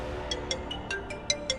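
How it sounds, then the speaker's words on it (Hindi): An incoming phone call on a ringing handset, heard as a steady pattern of short, bright electronic chirps about every fifth of a second, moderately loud over a low background score. "नीति का फोन आ रहा है।"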